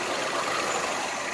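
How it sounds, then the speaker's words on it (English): Engine cooling fans on a 2011 Nissan Altima 2.5 run with a loud, steady broadband whoosh under the open hood, close and constant without breaks. "Yeah, we got engine fans running"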